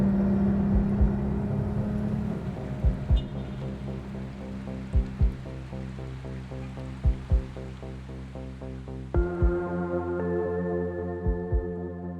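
Turbocharged 1982 Porsche 911 engine, about 420 horsepower, droning loud and close with a steady low rumble, repeated sharp blips and revs, and a clear gear change midway before the engine note climbs again.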